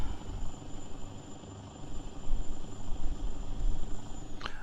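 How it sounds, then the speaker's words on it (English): Rumbling drone of an airplane passing overhead in American Truck Simulator, swelling and fading in a pulsing low roar with a brief sharp tone near the end, with no talk over it. "Oh, there's an airplane."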